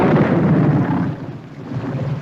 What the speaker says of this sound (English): This is a storm indeed.